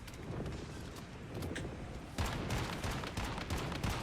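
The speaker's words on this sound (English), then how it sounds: "And this is with steel ammo on the shotgun." In the video game Once Human, a shotgun loaded with steel ammo fires in quick, dense bursts, a rapid volley of booming shots blending into continuous heavy gunfire alongside other combat noise.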